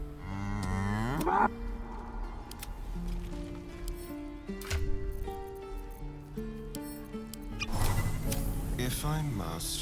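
A cow in the video game Baldur's Gate 3 gives several drawn-out moos in a row, close and fairly loud, with game voices speaking around them.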